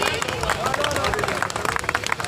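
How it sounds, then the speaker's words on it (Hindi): Audience applause at the inauguration of a new news-channel branch office, a steady dense patter of many hands clapping throughout, loud and continuous beneath crowd noise and a speaking voice. "तालियां बजाते रहिए"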